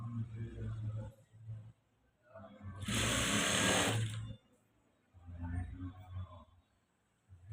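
Sewing machine stitching the side seams of a blouse, a short loud burst of motor whirring between quieter stretches of nearby speech.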